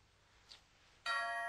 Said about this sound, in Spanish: ¡No! ¡El timbre!